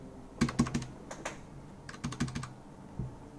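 Switches and keycaps being pressed back onto a Keychron K4 keyboard with optical red switches: two quick bursts of sharp plastic clicks and snaps, close and fairly quiet, followed by a single click.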